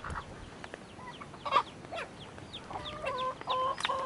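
Rhode Island Red chickens cluck and chirp nearby in a farm setting, with overlapping short calls and peeping that grow busier toward the end.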